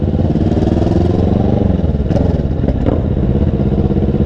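A Kawasaki Vulcan 650S motorcycle rides through the town of Serra Negra, its engine a loud, continuous close rumble with slight rises and falls in pitch and no talk audible.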